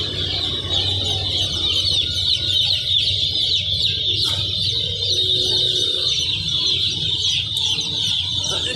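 Broiler chicks on a poultry farm keep up a steady, dense chorus of high chirping, with a low hum of farm noise running underneath throughout.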